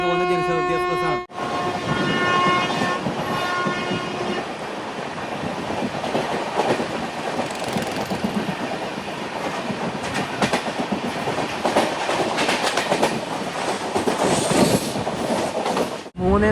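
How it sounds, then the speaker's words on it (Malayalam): Jan Shatabdi Express running from Mumbai toward Hingoli Deccan rolls into Kalyan station: a horn blast opens, then loud continuous rumble and clatter of wheels with squealing metal, and a voice speaks faintly beneath. "ട്രെയിൻ ഇപ്പിത കല്യാൺ സ്റ്റേഷനിലേക്ക് എത്തുകയാണ്"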